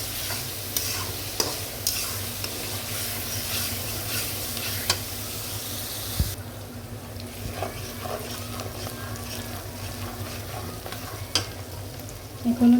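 Onion frying in a pan until light brown, a constant crackling sizzle under repeated scraping strokes of a stirring spoon, fairly close and with no clear speech.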